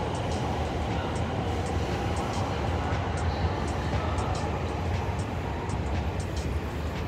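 A Shinkansen Asama bullet train rolls into Ueno station with a continuous rumbling roar, faint periodic high clicks over it, heard from nearby at moderate volume.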